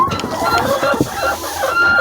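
Hens clucking and murmuring continuously at close range inside a poultry house with bedding-lined laying compartments, several birds overlapping in a busy, steady chorus.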